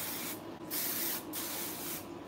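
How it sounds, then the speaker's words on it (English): Sebastian Shaper hair spray hisses from an aerosol can in three bursts, steady and close, two longer sprays followed by a shorter one. "all I'm doing is spraying it on"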